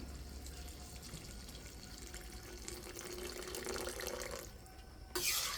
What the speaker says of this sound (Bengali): এখন আমি এখানে দিয়ে দিচ্ছি গরম জল।